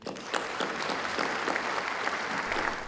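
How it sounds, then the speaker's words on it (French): Audience applauding at a conference on capital market development, a sustained wash of many hands clapping with distinct sharper claps standing out, steady and fairly close throughout. "je voudrais demander à l'audience de bien vouloir l'applaudir"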